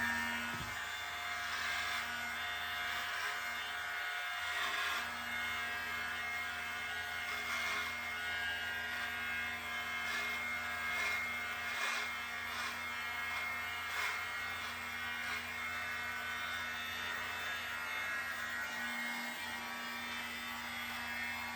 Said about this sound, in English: Now I'm gonna use the vacuum.